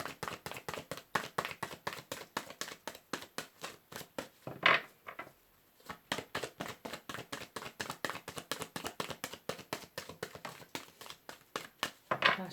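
A deck of tarot cards is shuffled in a fast, steady run of soft papery taps and riffles with a brief pause midway, close and fairly quiet, with no talking.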